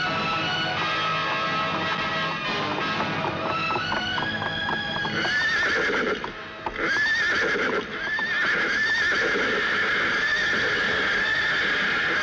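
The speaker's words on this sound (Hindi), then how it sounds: "अपना घोड़ा पीछे ले जाओ, मुझे बहुत जल्दी कहीं पहुंचना है।" A horse whinnies loudly and repeatedly, close by, with hooves clip-clopping underneath, all without any speech.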